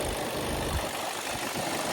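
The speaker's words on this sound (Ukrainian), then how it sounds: "Мотор працює чітко, рівненько." 2019 Skoda Octavia with a 1.6 diesel engine and DSG gearbox idles steadily, a close, even, low rumble with a faint knocking texture and no talking.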